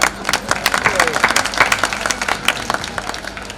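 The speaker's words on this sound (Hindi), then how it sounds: "लोग आपको पीटना नहीं चाहते, वो आपको स्नेह करते हैं, इसलिए तालियां बजा दीजिए अभी।" An audience at a Hindi comic poetry gathering in Karol Baag breaks into a short burst of dense clapping that swells and then thins out, close and loud, with voices faintly underneath.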